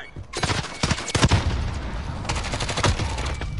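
Gunfire and a grenade blast in a shooter video game, with dense bursts of automatic shots firing in rapid clusters at close range, loud and continuous throughout, with brief voices mixed beneath.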